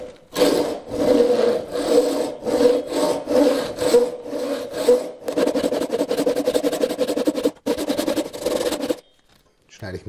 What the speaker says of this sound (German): Jetzt schneide ich mir das hier an.